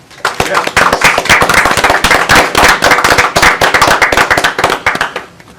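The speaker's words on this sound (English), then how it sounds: "I would like to give our contestant here, our winner, a round of applause" Applause from a small audience at a town council meeting for a contest winner, dense, close hand claps that start abruptly and fade out after about five seconds.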